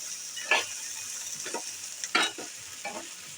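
Hilsa fish pieces are stirred in a frying pan: a soft sizzle carries throughout, broken by several sharp scraping stirs, some close together.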